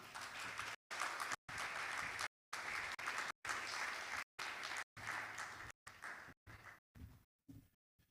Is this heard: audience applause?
yes